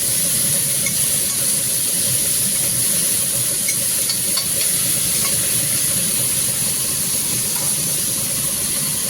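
Steady, loud sizzling of food frying in oil, a continuous hiss with faint crackles and occasional stirring scrapes throughout.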